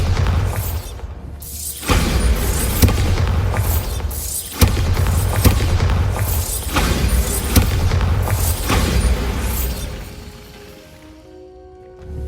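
Bombarda blasting spell explosions in Hogwarts Legacy, a run of loud booming blasts with crackling debris that repeat every second or two over a dense, rumbling game soundscape, then easing off near the end.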